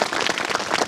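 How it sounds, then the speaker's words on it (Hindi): Children clapping loudly for their teachers at a forest department school event make a dense, rapid, crackling patter of many small hands, sustained and fairly close without any talk. "सभी बच्चे अपने आदरणीय गुरुजनों के लिए जोरदार तालियां बजाएं"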